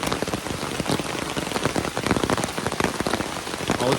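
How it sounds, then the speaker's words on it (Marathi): Monsoon rain falling steadily in the Konkan countryside, a dense, loud patter of drops hitting surfaces close by, with no talk over it. "पाऊस चालू झालेला बऱ्यापैकी"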